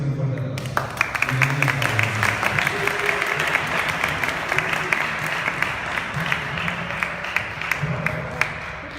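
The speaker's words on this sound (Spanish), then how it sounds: "Procedemos con un fuerte aplauso." Loud, continuous applause from a church gathering welcoming a priest to speak, many hands clapping steadily over a low hum of voices, with some sharper individual claps standing out.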